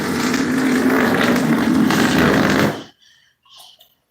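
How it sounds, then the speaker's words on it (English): A long loud sputtering fart rumbles continuously for nearly three seconds close up, then cuts off abruptly, followed by faint small noises. "Chilling and farting."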